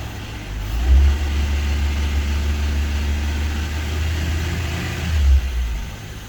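Engine of a Honda EK Civic with a manual swap idling steadily close by, a low continuous hum with two brief swells as it is shifted into first gear.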